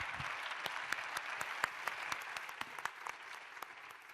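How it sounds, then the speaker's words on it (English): Steady audience applause for a panel at a tax symposium, dense overlapping claps with sharper individual hits, moderately distant and sustained throughout. "I would like to ask you for an applause for our great panel"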